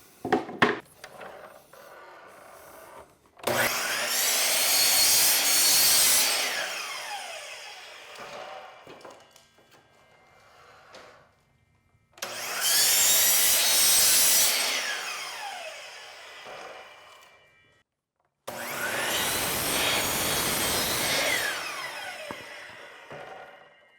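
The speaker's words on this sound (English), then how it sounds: "I will use my big Bosch saw again for that." Three separate loud cutting passes from a large Bosch saw tapering the wooden sides of a marten and fisher trap box at 5 degrees. Each pass is a close, whining rip through wood, with quiet handling noise in the gaps between them.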